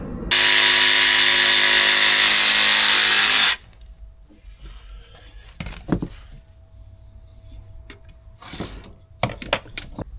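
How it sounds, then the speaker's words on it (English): A jigsaw cuts luxury vinyl click flooring inside a campervan, a loud, steady, buzzing whine lasting a few seconds before stopping abruptly, followed by quiet handling clatter and faint speech. "So just got the jigsaw for this piece."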